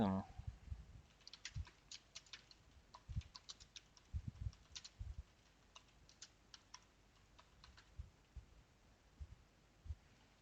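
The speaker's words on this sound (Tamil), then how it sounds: "இதில் சும்மா நான் ஒரு டாக்குமெண்ட் மெயின் கண்டென்ட் நான் டைப் பண்ணுறேன்" Someone types on a computer keyboard while writing a document, giving faint, irregular bursts of clicking keystrokes with short pauses between them, close and quiet.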